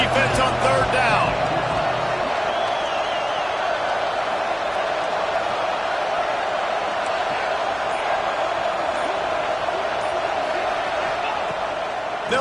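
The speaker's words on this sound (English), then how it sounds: "The Red Raider crowd rising to the occasion to help its defense on third down." Red Raider home crowd roaring at a college football game on third down, a loud sustained wash of cheering and noise from a packed stadium, steady throughout under a commentator's voice.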